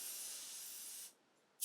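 Harder and Steenbeck Infinity CR Plus airbrush spraying at low pressure, around 20 to 22 psi: a steady, close airy hiss for about a second, a brief pause, then the spray bursts on again.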